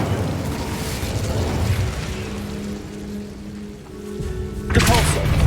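Incendio fire spell cast in the wizarding game Hogwarts Legacy, a deep roaring whoosh with rumbling low texture and a sharp burst near the end, loud over ambient game noise.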